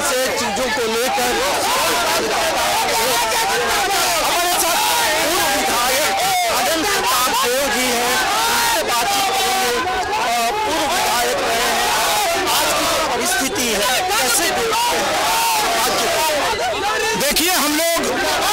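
A large crowd of party workers protesting outside the Chief Minister's residence makes a dense, continuous roar of chanting and shouting, loud and steady throughout, with a reporter speaking over it.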